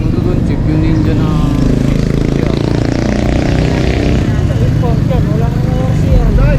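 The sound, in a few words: motorcycle engine running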